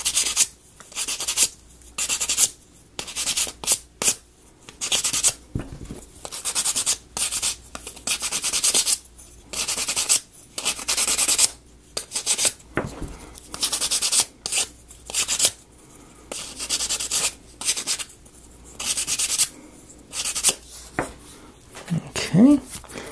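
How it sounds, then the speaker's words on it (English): Laser-cut wooden pieces from a ROKR Curious Discovery solar system model kit are sanded by hand, with short rasping strokes repeating in uneven bursts and brief pauses, close and clear. "that'll be all the wood pieces for this one, so let's sand them down right quick"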